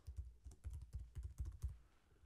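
Quick, light keystrokes on a computer keyboard come in a rapid burst of about a dozen close, quiet taps and then stop, with no talking.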